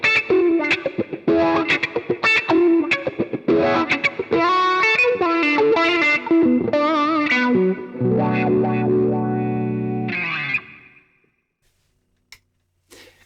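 Distorted electric guitar riff through a Jam Wahcko wah pedal at its brightest setting, bright, cutting, nasal tone, busy picked notes then sustained chords ringing out before fading to near silence.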